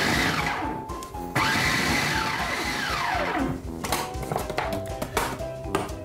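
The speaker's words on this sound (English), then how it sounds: "we're going to pulse this together until this is crumbly, like a coarse cornmeal" Food processor pulsing flour and shortening for a strawberry rhubarb pie crust, a steady whirring motor chop running for several seconds with a brief stop and restart, followed by uneven rattling bursts as the blade spins down.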